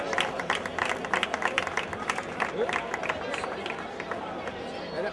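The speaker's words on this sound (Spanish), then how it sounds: "Un fuerte aplauso para ellos" Applause at an outdoor prize-giving for the category winners of a popular night race, a steady crowd clapping mixed with chatter and some cheering, with a voice over a loudspeaker.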